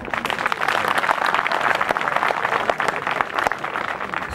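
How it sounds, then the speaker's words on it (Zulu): A crowd at a Zulu gathering honoring a 116-year-old elder claps steadily for the speaker, a dense, continuous patter of hands that holds evenly throughout. "ake simshayele ihlombe"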